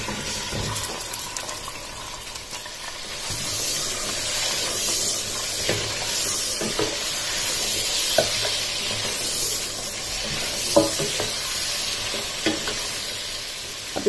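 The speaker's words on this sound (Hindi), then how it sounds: "अब इस चिकन को इसमें गोल्डन ब्राउन कलर होने तक ऑयल में फ्राई कर लेना।" 750 grams of chicken frying in oil with black cardamom, black peppercorns and cloves, a continuous close hiss and sizzle with occasional stirring clinks and pops, no one talking.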